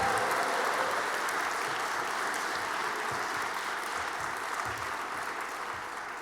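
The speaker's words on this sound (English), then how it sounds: "Give Dacian another round of applause." Applause from an audience in a university chapel during a Martin Luther King Jr. keynote, a steady roomy wash of many hands clapping that slowly tapers toward the end.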